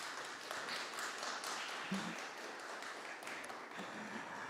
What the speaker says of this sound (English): Can we please give those two a big round of applause?